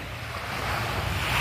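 Sea waves wash steadily along the seaside, a close, continuous surf roar that swells slightly toward the end, mixed with some wind noise.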